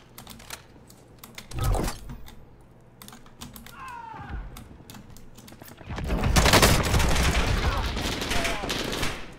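Gunfire in a video game comes in a few sharp single shots, then a sustained rapid burst in the second half, over a background of keyboard clatter.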